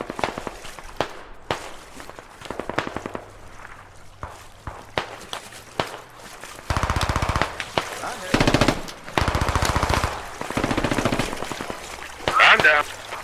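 Machine gun fire in the video game Squad, with a Canadian machine gunner on the Narva map: scattered shots and footsteps early, then long, loud sustained bursts in the second half, with voices talking in between.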